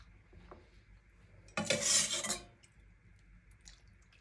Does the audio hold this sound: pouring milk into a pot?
yes